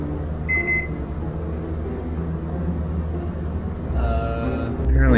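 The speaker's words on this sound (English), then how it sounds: "Apparently I need a lesson on how to use a microwave." A microwave oven hums steadily as it is set, with a few short electronic beeps from its keypad, followed by a louder tone near the end; no one speaks over it.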